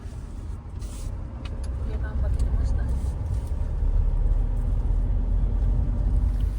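A car rolls up and stops outside a home with a low, steady engine rumble and road noise that grows slightly, and a person talks over it.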